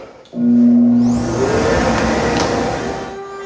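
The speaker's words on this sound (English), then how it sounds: "let's turn on the dust collection and we'll make our plunge cut" A dust collector roars up and runs steadily through a router plunge cut on a table saw taper and jointer jig, a loud continuous whine with a rising tone and harmonic bands, no voices.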